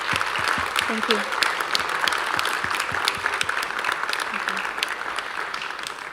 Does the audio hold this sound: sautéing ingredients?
no